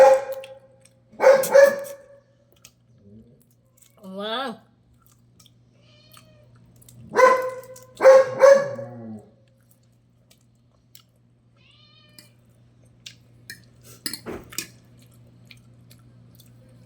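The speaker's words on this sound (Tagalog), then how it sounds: "Laging maingay yung aso ko pag nagkakain ako" A dog gives short barks and yelps in scattered bursts with pauses between, close by, while a person eats rice noodles, with faint chewing and a brief exclamation.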